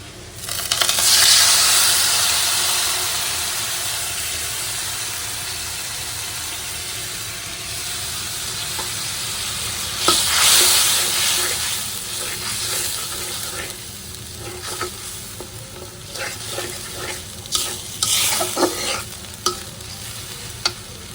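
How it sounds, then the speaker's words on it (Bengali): Spice paste frying and being stirred in a pan with onions for a taro curry, with a strong steady sizzle under repeated scraping stir strokes, loud and close throughout. "মশলাটা আমি ভালো মতো কষায় নেব"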